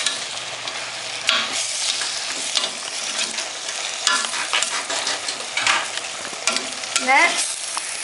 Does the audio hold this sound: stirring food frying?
yes